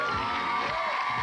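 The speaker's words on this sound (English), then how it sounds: "Give her a big round of applause, guys." Studio audience on a 1994 children's geography game show cheers and claps in a steady dense wash, with a few whoops and children's shouts mixed in, loud and continuous throughout.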